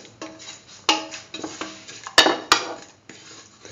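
A spoon stirs a thick mix of mustard paste, salt and spices in a metal pan, giving several sharp clinks and scrapes at an irregular rhythm, close and clear.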